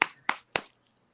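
Three sharp, close slaps in quick succession as a hand pats a cigarette pack, each one crisp and brief, with silence afterward.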